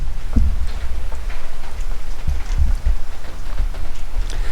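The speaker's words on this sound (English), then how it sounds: "it's pissing down with rain" Heavy rain pelting down on a mild evening at a garage and workshop build site in Thailand, a steady broadband wash with scattered louder drops and splashes throughout, no voices.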